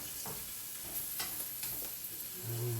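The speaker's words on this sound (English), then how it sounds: "So let's stir." Brussels sprouts sauté in a pan as a spoon stirs them, making a low, quiet sizzle broken by a few soft scraping strokes, close by, with no talking.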